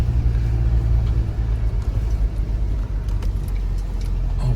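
A truck creeps slowly over a rough Colorado camping trail on tires that have not been aired down, its engine a low, steady rumble close by with faint bumps and knocks.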